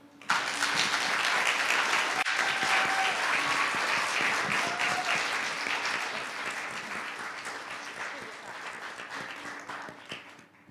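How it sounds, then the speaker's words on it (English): Audience applause at the close of contestants' orations in a city youth Martin Luther King Jr. oratorical contest, a dense sustained ovation that starts abruptly, stays loud, then slowly thins over about ten seconds. "Please, let's give them a round of applause."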